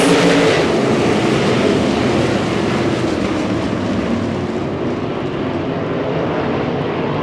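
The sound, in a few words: Lucas Oil POWRi 305 winged sprint cars racing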